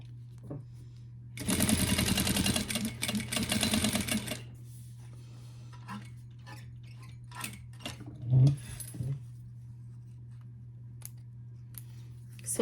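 A sewing machine runs in one loud, steady burst of rapid stitching while a small fabric pouch is turned and sewn, followed by quieter clicks and handling noises, with a low mains hum throughout.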